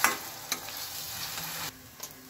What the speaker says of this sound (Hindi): तेज पत्ता लिया है, थोड़ा हमने कड़ी लीव सुखा कर लिया है, ये भी बीच में डाल देंगे। इसको भूनेंगे।